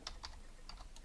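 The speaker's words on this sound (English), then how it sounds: "I would say maybe if I just type exit." Keys tapped on a computer keyboard while entering a quit command in a Linux program on a Raspberry Pi, a few quiet separate clicks in two small bursts against low background hum.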